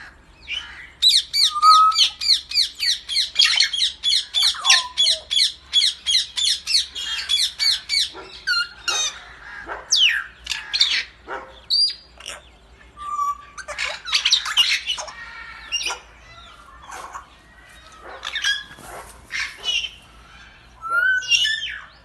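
Loud, rapid repeated squawks from parrots of many colours at a wildlife park, a long rhythmic series at first, then irregular harsh calls and chatter continuing close by.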